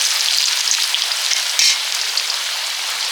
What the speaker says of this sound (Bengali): খিচুড়ির সবজিগুলো ভেজে নেব